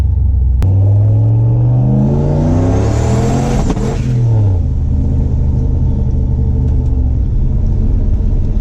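Turbocharged LS-swapped Chevrolet C10 pulling hard at 12 psi boost, a loud close engine roar climbing steeply in pitch through one gear, then a shift and renewed rising drone that settles into a steady cruise.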